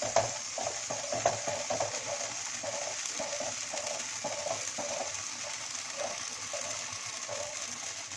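Amaranth seeds popping in a hot wok over a medium flame with a cloth pressed over them, a faint steady crackle with a regular rhythmic rubbing or scraping repeating every half second.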